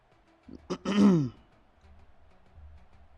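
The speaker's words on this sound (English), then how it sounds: "Sorry for the constant sniffling and clearing my throat" A single rough throat clearing close to the mic, a short burst followed by a longer guttural rasp, then quiet background.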